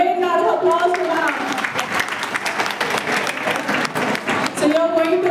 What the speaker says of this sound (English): Give a big round of applause to Ma'am.